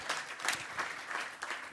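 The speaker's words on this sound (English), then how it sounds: "A round of applause for our panelists." A conference audience at a European batteries policy event claps for the panelists, scattered hands heard faintly from a distance in a brief, uneven patter.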